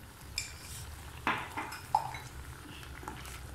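A spoon stirs garam masala into a paneer butter masala curry in a pan, giving a few soft clinks and scrapes against the metal over a quiet background.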